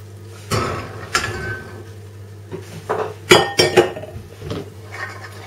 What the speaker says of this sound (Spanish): Y una vez que estén limpios, los pondremos en la olla express.